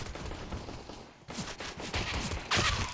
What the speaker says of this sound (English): Oh, the nade.